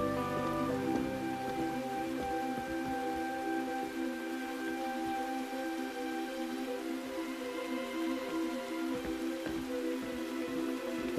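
Steady rain falls over farmland near a river at risk of flooding, a constant soft hiss that holds evenly throughout with a sustained tonal drone underneath.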